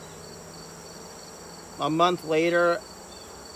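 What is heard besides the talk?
honey bees buzzing around an opened hive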